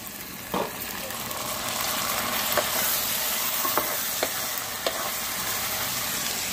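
Raw prawns drop into a pan of browned onions and fry with a continuous sizzle, broken by a few sharp clinks and scrapes of a stirring spoon against the pan.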